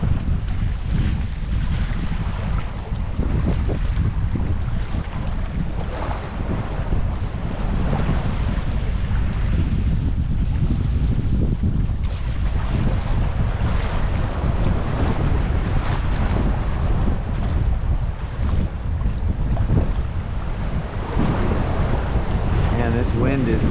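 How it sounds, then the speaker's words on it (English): Strong wind roars across a fishing boat at sea off Half Moon Bay, California, a loud, continuous buffeting rush with microphone wind noise and splashing water, and someone speaks now and then. "This wind is going wild."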